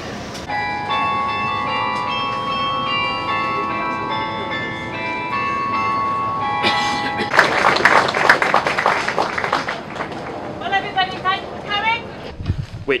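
Bells ring out in a steady tonal peal on a rainy college campus near a library, fairly loud at first, then joined by crowd chatter and voices talking over them in the second half.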